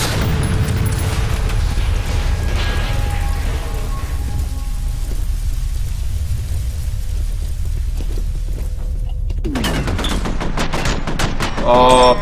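Gunfire in the F.E.A.R. video game: a dense, loud, continuous wash of shots and rumble that thins briefly, then resumes with a sharp rapid volley at the end.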